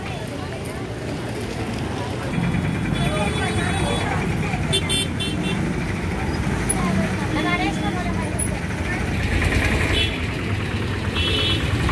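Traffic jam on a dug-up road lined with shops: a constant din of idling car and bus engines with scattered horn toots, while someone talks over the noise throughout.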